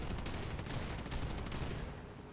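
Rapid, dense aircraft cannon fire from a P-39N-0 in War Thunder rattles continuously at close range, a fast burst of shots before cutting off.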